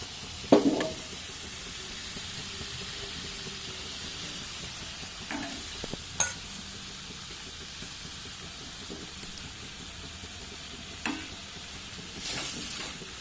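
Potatoes go into meat frying in a pot, giving a steady soft sizzle with a few clattering knocks and stirring scrapes and a brief louder crackle near the end.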